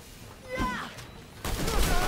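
Gunfire striking the player in The Technomancer: a muffled burst of impacts, a short lull, then a louder noisy barrage, with a voice groaning under it.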